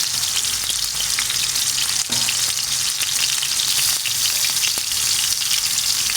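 Chicken meatballs seasoned with coriander and garlic frying in hot oil, a steady, close, dense sizzle that crackles continuously throughout with a few sharper pops and no talking.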